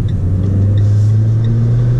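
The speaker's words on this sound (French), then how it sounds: "quand t'es à 90 km/h, l'admission, tu l'entends" Inside a Renault Clio RS Trophy cruising at about 90 km/h, the intake note drones as a loud, steady low hum over road rumble and blower noise.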